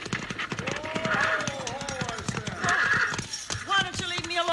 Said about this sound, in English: Pull them horses down!